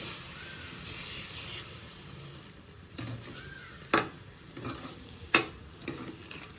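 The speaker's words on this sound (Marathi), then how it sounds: "काही 1 वाटी त्याच्यात साखर टाकून भरून असं हलवून घ्यायचं" Sugar is stirred into pumpkin kheer with almonds, making soft scraping and swishing over a faint background hiss, with a few sharp spoon-on-pot clinks.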